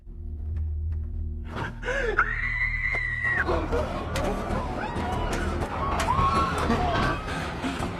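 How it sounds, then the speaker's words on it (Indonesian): A woman lets out a loud, sustained high scream while being stabbed in a Squid Game drama scene, a shrill cry rising over tense background noise and scattered gasps, followed by a shorter second scream. "Jeritan seorang wanita terdengar nyaring saat ditusuk."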